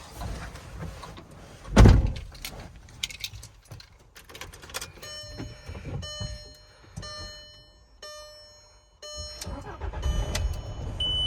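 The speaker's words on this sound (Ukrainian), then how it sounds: "Ну і запустимо двигун, послухаємо, як він працює." A click and thud, then a Volkswagen Transporter TDI diesel van engine cranks and catches, settling into a steady idle with a faint high chime ringing over it.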